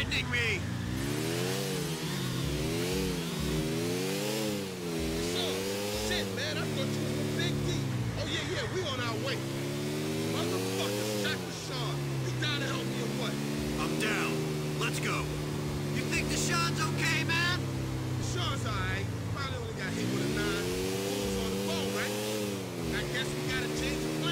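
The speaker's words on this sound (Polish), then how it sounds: "Zabieram motocykl, który bardziej mu się podoba." A motorcycle engine in GTA 4 revs and changes pitch repeatedly, rising and falling through gears over a continuous game soundscape. The engine is moderately loud, with someone talking over parts of it.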